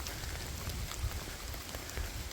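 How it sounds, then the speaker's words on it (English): Light summer rain falls on a wooded hiking trail in the Finger Lakes, a dense even patter of drops close around the listener, steady and gentle with no voices. "It rains a little bit more."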